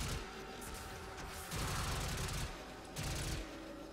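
Rapid automatic gunfire from Warframe breaking rocks, loud sustained bursts that surge twice amid a steady background game mix, with no voices.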